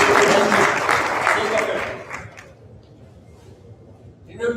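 An audience applauds at a talk on solar and renewable energy in India, dense clapping that is loud at first and fades away over a couple of seconds, leaving a quiet room.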